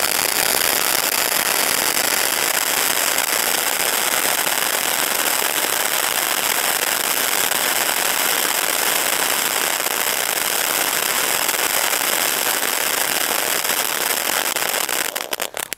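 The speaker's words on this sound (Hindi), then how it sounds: "अब टेस्ट करते हैं हमारे कॉकटेल वाला पटाखे" A loud, continuous crackling Diwali cocktail firecracker burst, dense and hissing like sizzling sparks, sustained at full intensity for many seconds before sputtering into a few final pops.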